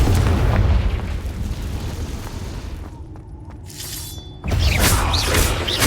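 Confringo spell explosions in the video game Hogwarts Legacy, with loud booming blasts and shattering debris, a brief lull, then another heavy burst with crackling magical effects.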